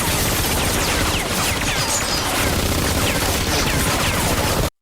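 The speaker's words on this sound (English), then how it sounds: "gunfire erupted inside." A movie gunfight: dense, continuous bursts of gunfire and rapid shots fill the whole stretch loudly with no pause, chaotic and close.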